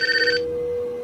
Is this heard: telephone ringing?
yes